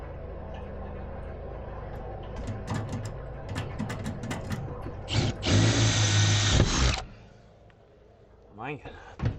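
A power drill bores holes in an aluminum pontoon during a tritoon conversion, with a steady loud whir that rises to a sustained grinding burst before stopping, mixed with clanks and tapping noises nearby.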